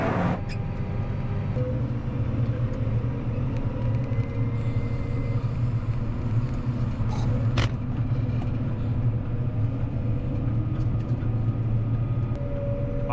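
A farm truck creeps slowly out of a muddy field onto a road, its engine giving a steady low rumble and drone throughout, close and continuous, with no talking.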